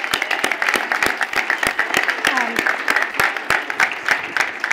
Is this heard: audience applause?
yes